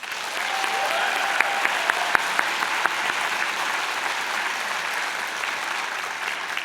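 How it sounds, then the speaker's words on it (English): Graduation convocation audience applauding the class of 2019, a dense, sustained wash of clapping from a large crowd in a hall, steady and fairly loud with a few sharper individual claps standing out. "One more round of applause."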